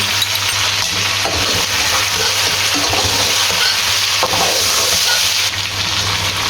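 Steady, loud sizzling of chicken with ginger-garlic paste frying in a pan for Hyderabadi chicken pulao, with occasional scrapes of stirring, continuous throughout with no voices.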